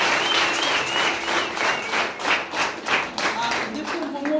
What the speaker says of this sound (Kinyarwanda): Tuyongera amashyi menshi cyane